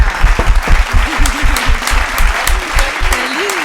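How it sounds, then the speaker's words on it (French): Audience applause for a stand-up comedian at a comedy show, lively clapping mixed with cheers and whoops, loud and close. "On donne une bonne main d'applaudissement pour Alexandre Bisaillon"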